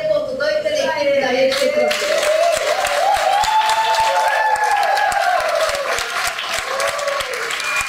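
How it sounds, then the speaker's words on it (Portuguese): A crowd at a national launch event for a music compilation claps in sustained applause, loud and dense, with a voice talking over it throughout. "eu acho que Deus tem que dar uma salva de palmas"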